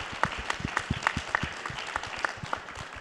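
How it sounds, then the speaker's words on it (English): Applause from an audience at an AI panel discussion, a steady patter of many hands clapping with some distinct close claps standing out, sustained and moderately loud. "Another round of applause for Paul, please."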